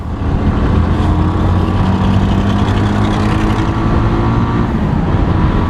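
A Bajaj Avenger 220 motorcycle engine accelerating, a loud, continuous droning roar heard close up with a steady pitch and no talk.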